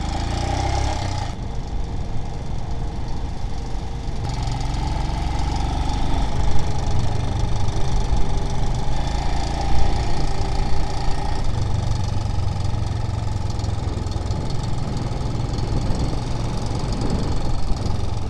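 A motorbike engine runs steadily on a Vietnam road after gravel and single-track riding, giving a continuous low rumble with a rough, knocking texture close to the microphone and no talking.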